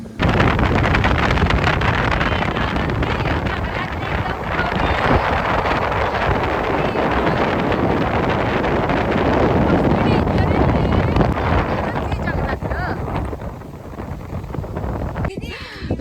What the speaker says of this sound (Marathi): खूप छान हवा पण सुटली आहे